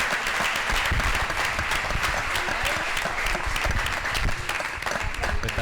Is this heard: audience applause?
yes